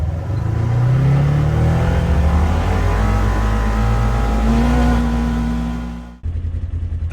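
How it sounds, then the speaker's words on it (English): A 2024+ Polaris RZR XP 1000 fitted with an Aftermarket Assassins dual muffler is floored, its engine rising into a loud, close, sustained roar that cuts off abruptly near the end. "now we're going to floor it so we can get a mid-range decibel reading"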